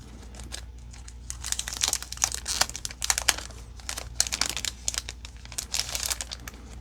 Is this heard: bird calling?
no